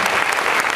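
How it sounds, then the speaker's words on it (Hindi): Short, dense round of audience clapping at an RCM royalty achievers' recognition gathering, continuous and loud throughout with a few sharper individual claps. "जोरदार तालियां"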